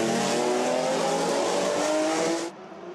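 Group B rally cars race around a street circuit during a demonstration run, giving a loud, sustained engine roar that drops suddenly to a quieter, more distant drone.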